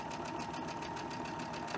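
A sewing machine runs steadily at a constant stitch length, stitching cotton fabric pieces together in a close, continuous mechanical hum with no pauses or talking.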